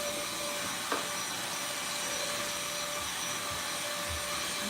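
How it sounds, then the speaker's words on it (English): A vacuum cleaner runs steadily and fairly loudly indoors, a constant broadband whoosh with a faint steady tone and a few small bumps, no talking. "Okay, so this vacuum sucks."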